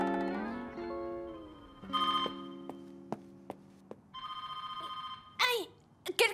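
Telephone in a French animated series, with bursts of repeated electronic ringing and short tonal chimes, plus musical notes and cartoon sound effects, fairly close, with no speech.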